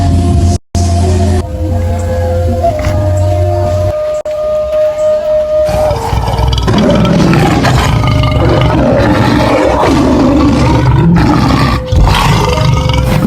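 Two tigers let out loud, close roars, first a sustained growling roar and then after a brief break a harsher, more ragged burst that runs to the end, with no talking.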